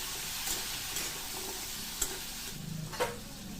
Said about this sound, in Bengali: আলুর মধ্যে আমি ছোট 1 চামচ হলুদের গুঁড়ো দিয়ে ভালো করে ভেজে নেব।